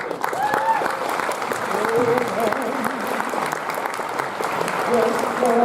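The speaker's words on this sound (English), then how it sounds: "Please give a round of applause for Queen." A conference audience at the 2019 National Adaptation opening plenary gives a sustained round of applause for Queen, with clapping steady throughout and voices and tonal calls rising over it.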